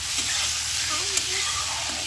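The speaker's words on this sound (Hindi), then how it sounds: "शिमला मिर्च को भी थोड़ा साथ में अच्छे से उसको फ्राई कर लेंगे" Mushrooms and bell pepper fry in a pan with salt and turmeric, producing a constant, close hiss of sizzling that continues without a break.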